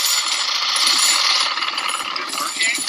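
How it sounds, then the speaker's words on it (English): A jigsaw saws through a metal treasure chest chain with a loud, steady high-pitched buzzing rasp that holds without a break from start to finish. "Jigsaw versus treasure chest chain."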